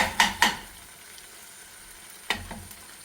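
Chillies frying in a pan for Schezwan sauce, a steady soft sizzle broken by a few sharp scraping stirs near the start and again toward the end, close and fairly quiet with no voices.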